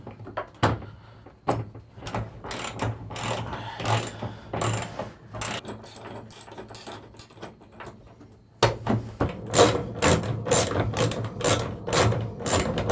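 A ratchet clicks in quick, repeated bursts while a Diamondback truck bed cover is locked down at its center, close and crisp, with short pauses between runs and no talking.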